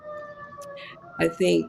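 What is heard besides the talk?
siren of an emergency vehicle going by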